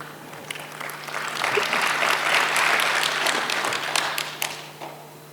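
An audience at a governance lecture breaks into applause that swells to a full, dense clapping and then tapers off, with a steady hum underneath.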